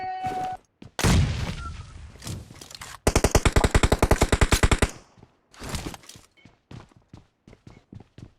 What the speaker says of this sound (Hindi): पीछे से फायर आ रहा था